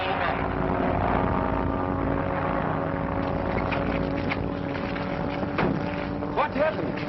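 A propeller plane landing in a field, its engine a steady droning hum with a wind-like rush, mixed under a voice speaking throughout.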